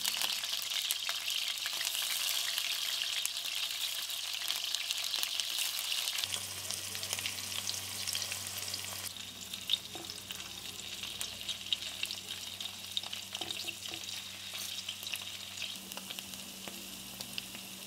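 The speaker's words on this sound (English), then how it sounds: "add your cottage cheese cube and fry it on a low flame until it turns light brown on both sides." Cubes of cottage cheese fry in oil in a pan over a low flame, giving a steady, close crackling sizzle that eases slightly partway through, with no voices.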